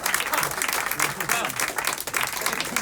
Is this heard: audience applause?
yes